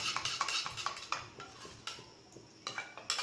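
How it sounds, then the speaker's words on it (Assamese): A spoon stirs custard powder mixed with warm milk in a bowl, quick rhythmic clinking and scraping against the dish, close and moderately quiet, with no talk. "গৰম গাখীৰকণ দি তাক এইদৰে মিক্স কৰি ল'ব"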